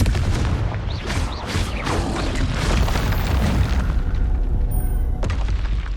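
A Confringo fire spell explodes in Hogwarts Legacy, a loud, dense blast of booming, crackling noise that rolls on without a break for several seconds, with no talk over it.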